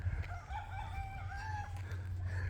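A rooster crows on an island in the Virgin Islands, its rising and falling call carried over a steady low rumble of background noise, fairly close and clear with no talk.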